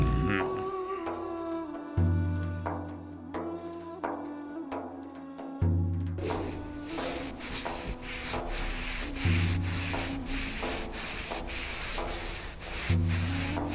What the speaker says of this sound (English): the Roman ones were polishing and shining the walls.